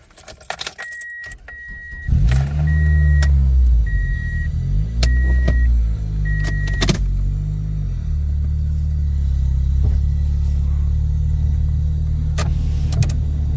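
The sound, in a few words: Toyota Corolla engine started and running after misfire fix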